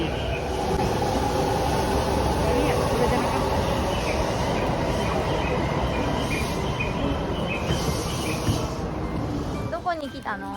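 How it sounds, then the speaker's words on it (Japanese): A Yamanote Line train in Tokyo pulls into the station with a loud, continuous rumble and rushing roar that fades near the end, while people talk over it. "電車来た"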